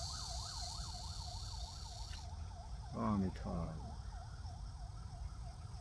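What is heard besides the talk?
ambulance siren passing by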